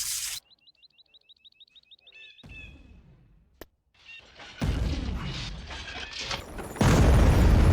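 Weapons fire in the Star Wars Empire at War strategy game: a run of rhythmic chirping blips, then a sharp crack and heavy booming blasts and explosions that swell into a loud, continuous barrage.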